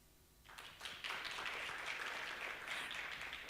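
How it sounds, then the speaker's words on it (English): Soft audience applause at an educational technology symposium rises after a quiet half-second start, then holds as a steady, distant patter of clapping with no voices. "Please give him a big applause."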